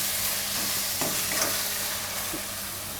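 Spinach being stirred in a pan, with a steady hiss and sizzle and a few soft scraping strokes, close and continuous for a short stretch with no talking.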